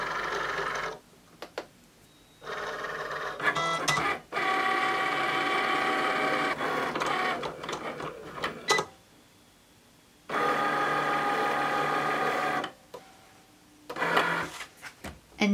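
A Cricut cutting machine works vinyl on a mat in bursts of mechanical whirring and clicking, separated by near-silent pauses. No one speaks.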